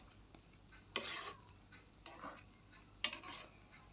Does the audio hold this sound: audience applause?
no